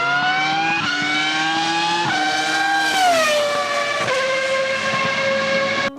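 A Formula 1 race car engine from the hybrid era, a sustained high-revving harmonic whine that climbs in pitch and drops sharply several times as gears shift, loud and close with no talk.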